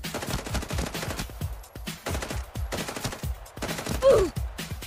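Repeated gunshots from a new pistol in a video game, sharp single reports fired in irregular bursts, loud and close, with a slightly heavier shot near the end.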